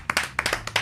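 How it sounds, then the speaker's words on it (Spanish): A small group claps on a Spanish football livestream, a handful of close, distinct hand claps in an uneven rhythm over a faint steady hum. "Venga, pues un aplauso ahí, grande"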